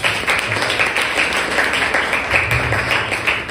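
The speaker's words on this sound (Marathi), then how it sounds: "जोरात प्रभू येशूसाठी टाळ्या वाजवा." A church congregation at a Sunday worship service claps together, producing a steady, dense wash of applause that holds at an even level throughout.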